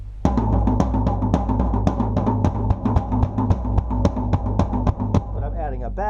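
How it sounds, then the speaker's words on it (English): A steady drum pattern with rapid sixteenth-note hits rolling across the floor tom and middle tom over a pulsing bass drum, played loud and close. "I'm doing 16th notes over the top of it on these 2 toms, the floor tom and the middle tom."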